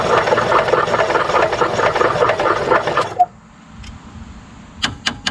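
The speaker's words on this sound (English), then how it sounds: "Engine spins and everything." Starter cranking the engine of an EZGO Workhorse utility golf cart that has an electric ignition coil fault and no spark: about three seconds of fast, rhythmic, loud churning that stops abruptly, followed by near quiet and a few sharp clicks.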